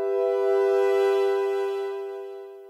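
A synth pad from Logic Pro's Alchemy, sound generator B alone, holds a sustained, harmonically rich tone that swells slightly then slowly fades, steady and close with no talking.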